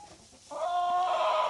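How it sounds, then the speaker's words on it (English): Chickens in a barn at an animal sanctuary, one bird letting out a short clucking call, then a longer, louder drawn-out cackle close by over a quiet background. "the chickens will just hang out in the barn when it's like this"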